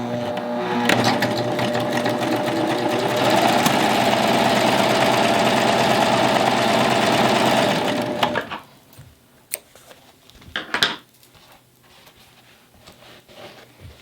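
A Baby Lock Triumph serger stitches through cork to form a basket, running in a loud, steady whir for about eight seconds and then stopping, followed by faint handling clicks and rustles.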